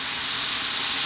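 Cold cooked rice lands in a hot pan with homemade masala powder, giving a loud, even steamy hiss for about a second without any pauses. No one talks over it.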